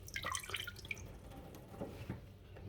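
Water drains from boiled oregano leaves, trickling and dripping softly in a quiet kitchen with scattered small splashes.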